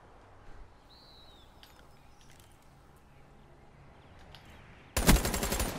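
Gunfire in the video game Call of Duty Black Ops III: after a few seconds of quiet ambience with a faint chirp, a sudden loud burst of rapid shots closes the clip.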